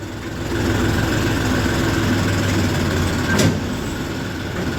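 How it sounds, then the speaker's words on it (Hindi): A tractor engine runs at a steady, loud low rumble with no letup, heard up close, and one short sharp rise near the end. "ट्रैक्टर स्टार्ट कर लिया है, चल दिए हैं जी लेके"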